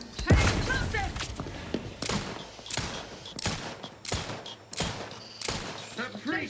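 Combat in the video game The Outer Worlds 2: a heavy thump early on, then a series of sharp, loud bursts of gunfire and blasts spaced about a second apart, with quieter gaps between.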